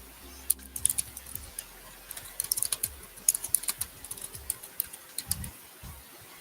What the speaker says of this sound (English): I hope that wasn't me tapping on the keyboard wasn't too loud for you guys.